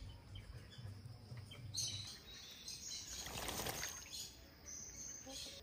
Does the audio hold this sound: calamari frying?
no